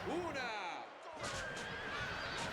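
A horse whinnies in the chariot-racing game Circus Maximus: Chariot Wars on Xbox, a loud wavering neigh over busy background noise and music, with a voice talking alongside.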